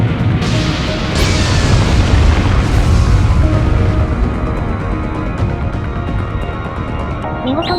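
A heavy explosion roars as giant Evangelion units are destroyed, a dense rumbling blast that rolls on for several seconds with scattered cracks and debris bursts, loud and close.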